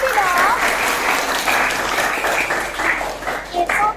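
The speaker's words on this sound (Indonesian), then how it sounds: "Oke, tepuk tangan dulu buat Rizky dong." Pupils in a classroom applaud a student named Rizky with a lively, uneven burst of clapping, close by and fairly loud, with voices calling out over it.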